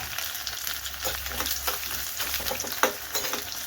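Sliced onion and green chilies sizzle and crackle steadily in a hot pan of oil for sambar, a continuous close frying hiss with faint stirring clicks and one sharper pop near the end.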